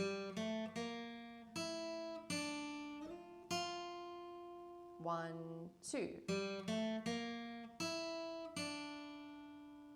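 Fingerpicked acoustic guitar plays the opening bars of a song, a steady series of plucked notes and arpeggiated chords with clear sustain, preceded by a brief spoken count-in.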